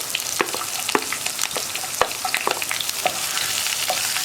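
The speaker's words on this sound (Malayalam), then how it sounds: "ചേർത്ത് ഒന്ന് നന്നായിട്ട് ഇളക്കി മിക്സ് ചെയ്യുക." Ginger, garlic and split green chillies sizzling steadily in hot oil while a spoon stirs them, with close, repeated scrapes and taps against the pan over a constant frying hiss and no talking.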